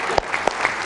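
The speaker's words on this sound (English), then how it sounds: "thank the president with a round of applause as he exits" An audience at a political forum applauds as the president exits, giving a brief, dense burst of clapping with a few sharper individual claps standing out.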